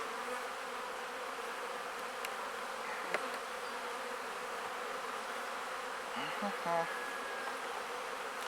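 Steady, dense buzzing of many honeybees inside a hive in late March fills the clip, close and continuous, with a few individual bees droning louder as they pass near.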